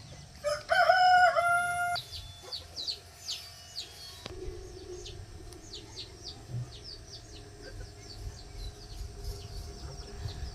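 A rooster crows loudly nearby once in a village in the morning, then smaller birds chirp and call steadily over a quiet rural background.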